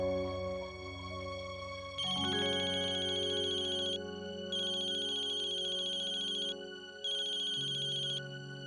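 A telephone ringing tone sounds while a call is being placed, repeating in three loud, even bursts separated by short gaps, over a background of soft music.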